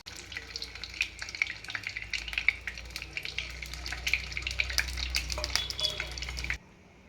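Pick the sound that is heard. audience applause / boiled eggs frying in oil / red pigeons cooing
boiled eggs frying in oil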